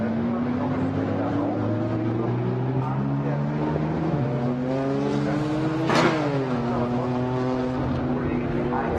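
An Alpine A110 GT4 race car and other GT4 machines roar past at the Nürburgring during qualifying, engine notes climbing and shifting through gears, with a sharp Doppler sweep as one passes close, under continuous commentary.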